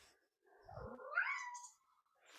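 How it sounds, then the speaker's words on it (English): A cat gives a single drawn-out meow that rises and then falls, close and clear against quiet surroundings, with no talking. "the cat has definitely some things to say"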